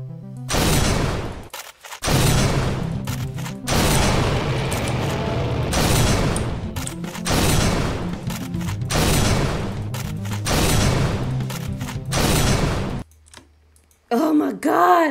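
Gunshots from the video game The Crawler ring out as repeated loud, sustained bursts of fire separated by short gaps, with a player's voice talking over parts of the action.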